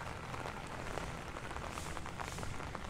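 Rain falls at Legoland California as an even, fairly quiet hiss of drops hitting surfaces, steady throughout without any voices.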